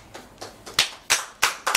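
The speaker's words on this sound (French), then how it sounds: "On applaudit pour Kadi Traoré" Scattered hand claps from a small audience at an event honoring a guest, a few soft claps followed by several sharp, louder ones in an uneven rhythm.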